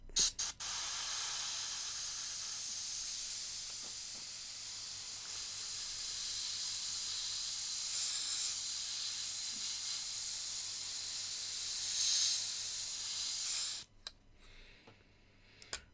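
Airbrush spraying dark blue paint, a steady continuous airy hiss that runs close and even for most of the clip, then cuts off near the end, leaving quiet handling noises.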